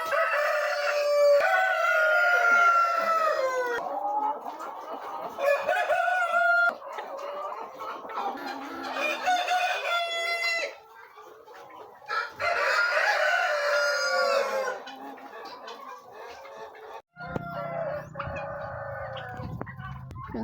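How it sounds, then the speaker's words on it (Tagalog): Farm turkeys gobble and call loudly and continuously while being fed bread, a dense chorus of overlapping poultry cries near the listener with a lower rumble toward the end. "Yung si kuya nagpapakain ng tinapay sa mga pabo"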